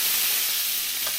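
Thin garlic and herb trout fillets fry in a pan, giving a dense, even hiss of sizzling oil that runs unbroken for a moment, close and fairly loud, with no voices.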